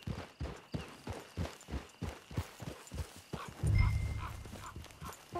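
Horse hooves clip-clop in the Western video game Red Dead Online, a steady rhythmic trot of close, distinct beats, ending in a louder low rumble of movement.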